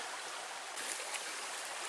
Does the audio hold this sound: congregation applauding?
no